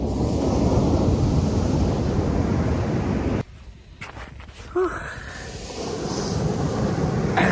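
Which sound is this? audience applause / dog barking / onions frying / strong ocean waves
strong ocean waves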